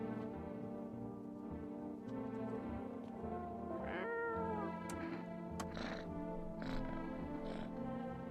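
Several clear cat meows, some drawn out, rise over a steady low background drone, with a few separate calls spaced through the stretch.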